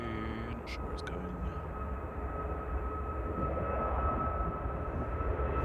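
A jet airliner departing Manchester Airport rumbles in a steady low roar at a distance, with a faint tonal whine riding over the constant engine noise.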